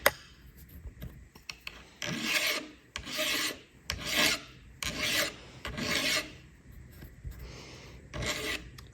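A hand file rasps back and forth across the metal edges of a CNC-machined brake caliper rotor adapter, about seven rhythmic close strokes.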